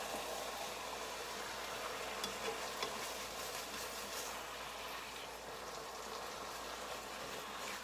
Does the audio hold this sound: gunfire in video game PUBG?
no